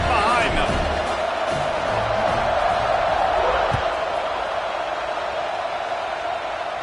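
Football stadium crowd roaring steadily during a kickoff after an extra point, a dense continuous wash of cheering that fills the whole clip, with a commentator's voice over it.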